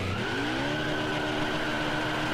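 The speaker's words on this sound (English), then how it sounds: "Burning out." Race car doing a burnout in NASCAR Heat 5 at Texas, a steady sustained engine drone with a rising whine and faint tire noise, continuous and fairly close with no talk.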